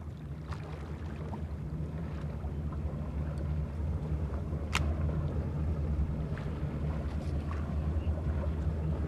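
A fishing boat's engine idles out of gear, a steady low drone with wind buffeting the microphone and faint knocks on the hull, moderately quiet and unbroken.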